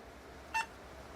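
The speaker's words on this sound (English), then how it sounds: "Okay, I heard the beep." A single short electronic beep, clear and tonal, sounding once over faint background hum: the startup beep of an old 486 or Pentium computer powering on.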